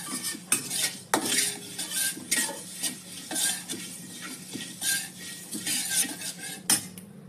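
Metal spoon scraping and clinking against a pan while two spoonfuls of cumin roast with spices for rasam, a busy run of sharp, close taps and scrapes with a faint low background hum and no talk.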